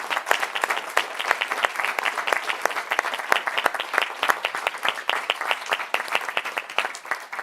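An audience at an awards evening claps for the competing teams, a lively sustained ovation with sharp individual claps standing out from the crowd, continuous and fairly loud.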